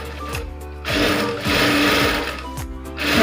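A sewing machine stitches the front panel of a blouse, running in steady bursts with brief pauses between them, close and loud with no voices.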